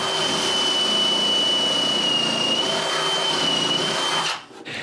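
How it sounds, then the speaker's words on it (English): A loud power drill whines steadily at high speed for several seconds while drilling holes in a wooden handrail, then stops abruptly near the end. "Mark where I need to drill more holes and drill them."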